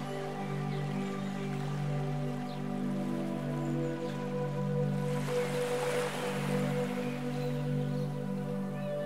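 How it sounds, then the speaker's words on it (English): Gentle ocean waves wash softly onto a sandy shore in a continuous, low, even hush under sustained soft musical tones, with no speech. "You can hear the gentle waves lapping on the shore"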